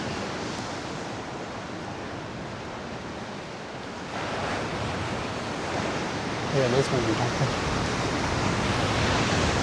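Ocean waves surge into the rock pools at Figure 8 Pools, a broad, continuous roar of surf and rushing water that swells louder toward the end, with wind buffeting and faint voices underneath.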